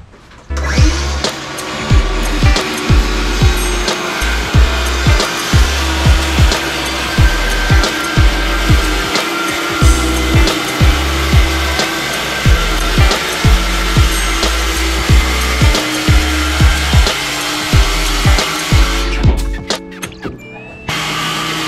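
A power saw cuts 3/8 inch sanded plywood in a long run of loud, evenly repeated strokes with whining bursts, ending as the blade spins down near the close.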